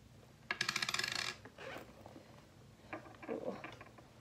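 A dime drops out of a purse, giving a quick bright metallic rattle and bounce, followed by a few softer, scattered clinks, close and fairly quiet.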